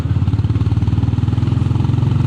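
A Honda GB 350 S single-cylinder motorcycle thumps close by, its exhaust giving a loud, even, rapid pulsing beat at a steady low idle-like pace, alone without voices.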